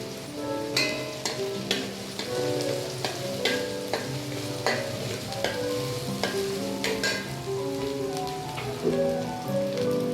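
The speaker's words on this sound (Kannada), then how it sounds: "ಈರುಳ್ಳಿ ಚೆನ್ನಾಗಿ ಫ್ರೈ ಆಗಬೇಕು. ಇವಾಗ ಇದಕ್ಕೆ ಸಣ್ಣ ಕಟ್ ಮಾಡಿ ಇಟ್ಕೊಂಡಿರೋ 2 ಹಸಿಮೆಣಸಿನ್ಕಾಯಿ ಹಾಕ್ತಾ ಇದ್ದೀನಿ" Chopped onions and green chillies frying in an oil-filled pan for keema fried rice, a continuous crackling sizzle with stirring clinks scattered throughout.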